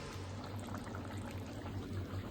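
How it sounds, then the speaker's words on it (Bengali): Vegetarian potol gravy with fennel simmers on a low flame, a soft steady bubbling and gentle burbling close by in the pot, quiet with no talk. "চল ঝোলটা ফুটতে থাক।"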